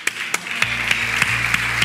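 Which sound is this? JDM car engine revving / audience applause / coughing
audience applause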